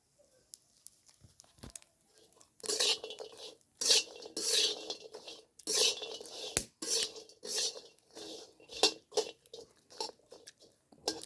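Grated coconut and chillies dry-roasting in a pan, stirred with a spatula in quick clattering bursts of scraping and knocking against metal, fairly close, with short quiet gaps between strokes.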